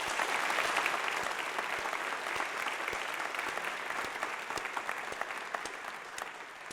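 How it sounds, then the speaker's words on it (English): A crowd at a college convocation applauds steadily, dense clapping filling the room at an even level and tapering slightly toward the end. "let's take a moment to give ourselves a collective round of applause"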